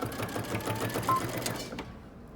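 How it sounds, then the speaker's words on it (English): A sewing machine stitches a dress seam in a short, close, steady run of rapid needle clatter that stops abruptly near the end. "I'm going to stitch using 5/8 of an inch for about an inch"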